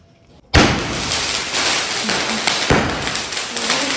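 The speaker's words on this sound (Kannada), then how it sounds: "ಪಟಾಕಿ ಹೊಡಿತಾ ಇರೋದು." Firecrackers set off at a birthday celebration: a sharp loud burst starts a dense crackling roar, with a second thump partway through and continued sputtering afterwards.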